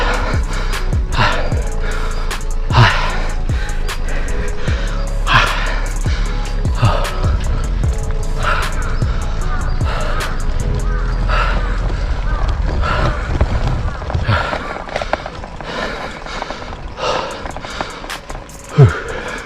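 A cyclist climbing a very steep slope in a family park in Fukuyama, Hiroshima, pants heavily in repeated close, rhythmic gasps over a constant rumble of wind and movement.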